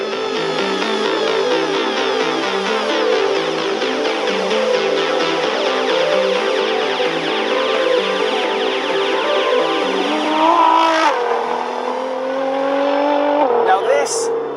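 A modified 2009 Nissan GT-R, tuned to stage 4.25, drones at high revs as it accelerates around a race track, its engine note rising and falling with gear changes beneath steady spoken commentary.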